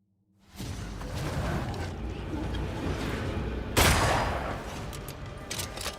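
A spectre opening fire in Banishers: Ghosts of New Eden, with a continuous roar of shots and rushing whooshes rising from silence, a sharp louder blast near the middle, then sporadic cracks toward the end.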